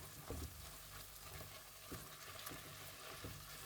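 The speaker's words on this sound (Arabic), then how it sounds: "ضفت البصل المفروم، وطبعا شوحتهم كلهم مع بعض ليدبل البصل تماما" Garlic, onion and chicken sauté together in a pan, a faint steady sizzle with a few soft stirring clicks and scrapes scattered across it, no voices.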